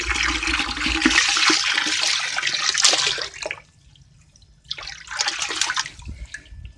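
Water gushing into tanks being filled for cement catfish ponds, a loud steady rush that cuts out briefly and then resumes, with no talk over it.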